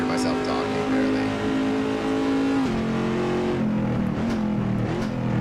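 A car engine in the Assetto Corsa racing game roars continuously and loudly, its pitch holding steady then dipping and rising again, with a voice talking over it.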